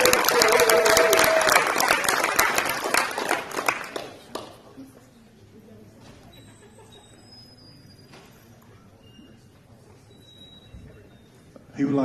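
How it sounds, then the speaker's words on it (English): Loud, dense crowd applause with some cheering at a high school signing day, sustained for about four seconds and then quickly dying away into a quiet room with faint murmurs and small noises, before a sudden loud sound at the very end. "One more round of applause while his family's on stage with us"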